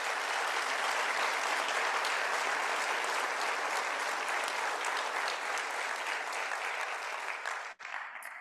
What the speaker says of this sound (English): Let's join in a round of applause